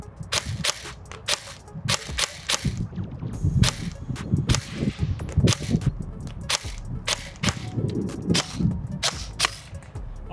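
A G&G FAR folding airsoft gun fires outdoors, letting off a string of sharp, snappy shots in irregular rapid bursts, each crack clear and close over a light background hiss.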